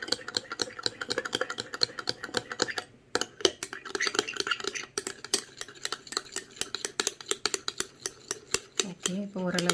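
A spoon stirs rose water serum ingredients in a small bowl with rapid, rhythmic metallic clinks and scrapes, close and fairly loud, with a short pause partway through.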